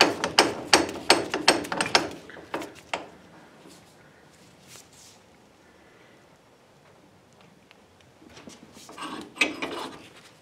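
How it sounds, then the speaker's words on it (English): A bench vise presses a hinge pin into a classic Ford Mustang door hinge, giving a run of sharp metallic clanks and ratcheting knocks, then quieter creaks, with another burst of loud clanking near the end. "I'm going to use the vise to press it in."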